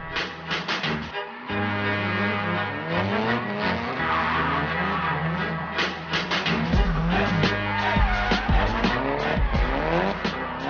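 Drift car skidding at a stadium drift event, tires squealing continuously with a loud revving engine rising and falling throughout, close and unbroken.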